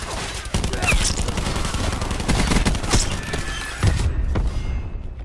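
Rapid bursts of automatic gunfire and thumping shots in Black Ops 4 league play, loud and dense, fading out near the end with game noise underneath.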